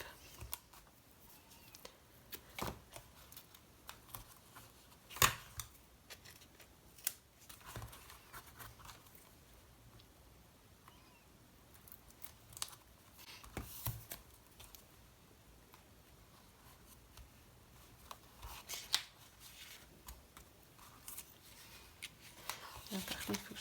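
Scissors snip through paper as a small dragonfly is cut out for a handmade Valentine card, with quiet scattered snips and rustles spread irregularly over a low background.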